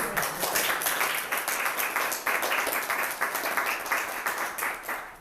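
Sustained audience applause fills a public library hall during an LGBTQIA+ panel discussion, dense clapping from many hands, steady and fairly loud throughout.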